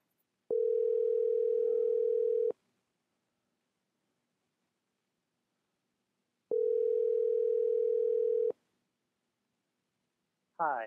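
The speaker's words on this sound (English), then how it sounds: "We'll let it ring for a few minutes." An outgoing telephone call rings back in two long, steady tones about two seconds each, separated by several seconds of silence, heard cleanly with no talk over them.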